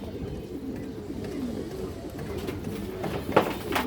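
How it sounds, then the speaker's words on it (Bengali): Black Muslodom pigeons coo in low, throaty murmurs that carry on through the stretch, with a brief louder flutter or rustle toward the end. "খুব সুন্দর কবুতর দর্শক"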